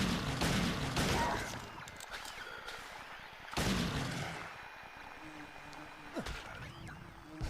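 Handgun fire in the video game Silent Hill 2, with loud booming reports near the start and again mid-clip, dense and echoing game sound behind and between the shots.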